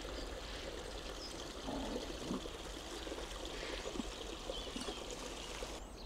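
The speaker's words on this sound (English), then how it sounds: "For now I just reached the river and I definitely have to stop here for several shots." A mountain river flows steadily beside heather-covered slopes, a continuous broadband rush of water with soft trickling detail, moderately close and unbroken, with no voices.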